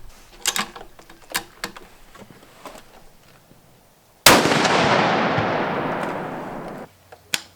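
A Tract Toric UltraHD 4-20x50 riflescope turret is adjusted with a series of close, crisp clicks, followed by one loud rifle shot whose echo rings out and slowly fades.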